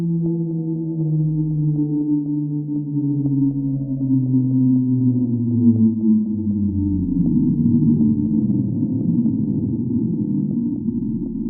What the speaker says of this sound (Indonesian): Slow Down adalah hasil dari gunung es yang menghantam dasar laut dan melengking ke perhentian besar